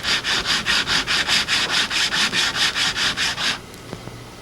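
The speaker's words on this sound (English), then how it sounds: "place just a half of a block on top of your shaft and rotate it as you sand." Half a sanding block rubs back and forth along a wooden arrow shaft in the wild, roughly fourteen quick, even abrasive strokes that run for three and a half seconds, then stop and leave quiet.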